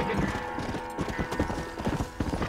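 Horse hooves clip-clop in steady, close rhythm in the video game Red Dead Redemption, carrying on for the whole stretch over the game's background ambience.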